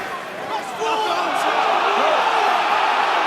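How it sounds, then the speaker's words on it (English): Home crowd at a Northampton Saints rugby match against the Scarlets, a broad swelling roar of disapproval that rises and holds steady, with the commentator talking over it. "The crowd, the home crowd, don't like that."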